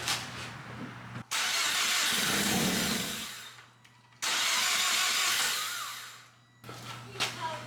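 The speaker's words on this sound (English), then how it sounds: "Alright, fuse is taken out, so let's crank it." A car engine cranking on the starter with the fuel pump fuse pulled so it cannot fire, heard as two long, loud whirring cranks separated by short pauses, then a quieter tail.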